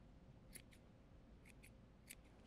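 Scissors snipping around a yarn pom-pom to trim it into a round ball, a few quiet paired snips spread out over a soft, low background with no talking.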